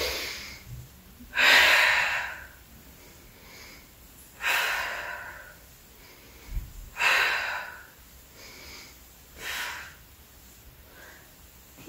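Rhythmic breathing during an abs workout, with four or five strong, close exhales or sharp inhales spaced a few seconds apart and quiet pauses between them.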